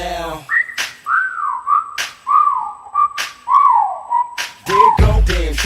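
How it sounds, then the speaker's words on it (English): Someone whistles at a girl, a loud, close whistle sliding up and down through a series of wavering notes, broken by short sharp clicks or snaps, with a brief voice at the start and at the end. "time to whistle at her"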